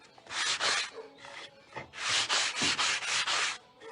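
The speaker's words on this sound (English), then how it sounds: "now I'm going to go with my 250 or 220 sanding block and go over it just lightly" Rough, rhythmic scraping of a sanding block across wood, several strokes back and forth, close and fairly loud with no talking.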